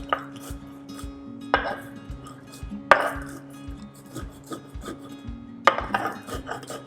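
Peppercorns and coriander seeds are coarsely crushed in a kitchen: a series of sharp, irregular knocks and grinding scrapes close by, with short pauses between strikes and no talk.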